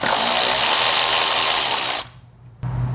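A power tool whirs loudly and steadily for about two seconds while backing out a 10mm coil screw on a Nissan 4.0L V6, then stops briefly and restarts.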